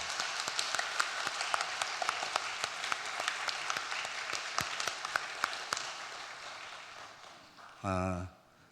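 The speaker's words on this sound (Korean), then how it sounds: "우리 아이들을 위해서 한번 큰 박수로 격려해 주십시오" Church congregation applauding children at a youth worship service, a fairly quiet, steady patter of many hands with scattered sharper claps, fading out before a brief burst of other noise near the end.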